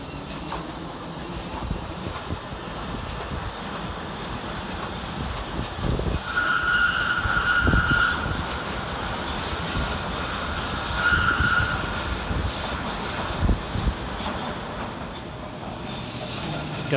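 A London Underground S Stock train on a Circle Line service arrives at Paddington, its wheels rumbling and squealing in two high-pitched bursts over a steady rolling clatter at moderate distance.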